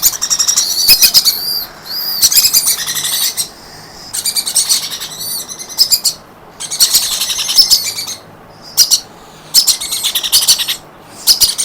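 Small parrots chirp and chatter loudly at close range in shrill, rapid bursts separated by short pauses.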